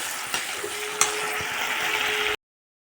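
Fish goes into a wok of frying spice masala with a little water, giving a steady, bright sizzle with a couple of sharp clicks from utensils before the sound cuts off abruptly.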